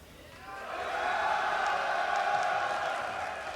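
A tournament crowd at a 1v1 final swells into a broad, sustained cheer, rising over the first second and holding steady, with a roar of many voices at moderate distance.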